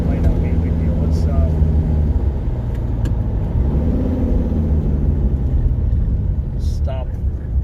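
Exhaust of a Mercedes-Benz 300TD with the OM617 turbo diesel, heard with the exhaust opened up while driving: a steady, loud low rumble and drone with slight pitch shifts, and a few faint voice traces on top.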